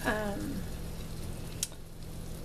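Two cups of rice toasting in a little olive oil in a pot, a soft, steady sizzle and crackle with a brief clink near the end, quiet and close.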